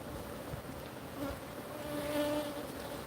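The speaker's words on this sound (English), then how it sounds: "So right now I've got bees" Bees around a hive hum in a steady, close buzz with a few individual drones rising and fading over a soft background.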